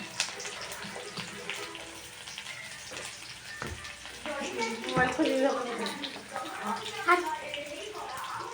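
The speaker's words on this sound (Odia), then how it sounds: "ରସୁଣ ପକେଇ ଦେଉଛି ଆଉ କିଛି ପିଆଜ ବି ପକେଇ ଦେଉଛି।" Garlic and onion sizzle in a pan, a steady hissing fry close by with occasional louder crackles while someone talks over it.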